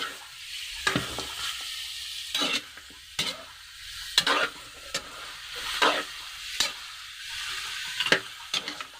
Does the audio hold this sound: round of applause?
no